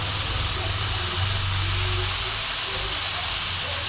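Radish greens frying in a pan over a lowered, medium flame for a vegetarian dish give off a steady, even sizzling hiss that holds throughout with no talking.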